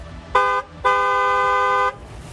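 A school bus horn sounds twice: a short honk, then a longer sustained blast, loud and near, with no talking.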